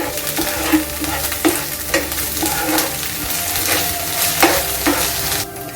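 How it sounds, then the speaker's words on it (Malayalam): Curry leaves stirred and sautéed in a pan with a frying mixture for Irani pola, a steady loud sizzle broken by repeated scrapes and knocks of the spoon, with no talking. "കറിവേപ്പില ഇത് നന്നായിട്ടൊന്ന് മിക്സ് ചെയ്തെടുക്കാം."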